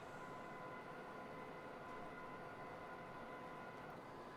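A train running on the Riesa–Dresden line in a train simulator game at low throttle, a steady dense rolling rumble held evenly throughout with no talk.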